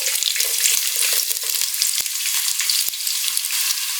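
Sliced onions with cumin seeds sizzle steadily in a hot pan of oil while cooking a chicken pulao, with a dense, close crackle and scattered sharp pops and stirring clicks throughout.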